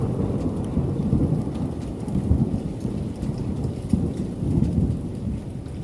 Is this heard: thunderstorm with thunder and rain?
yes